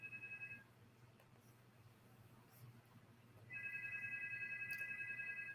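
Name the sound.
phone ringing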